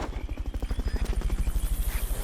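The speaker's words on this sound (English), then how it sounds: "Fulton Recovery subject confirmed onboard helicopter." A Fulton recovery helicopter in Metal Gear Solid: Peace Walker thumps with fast, evenly spaced rotor beats over a low engine drone, steady and close throughout.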